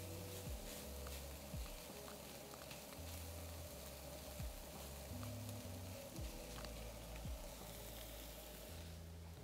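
Garlic sautés in a pot for chicken and dumpling soup, giving a steady soft sizzle and crackle throughout, with a low hum underneath and no talking.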